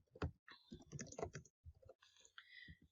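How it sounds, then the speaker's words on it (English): Quiet bursts of typing on a computer keyboard, uneven clusters of soft clicks with short pauses between them, heard close and alone. "so what we'll need to do is type in here"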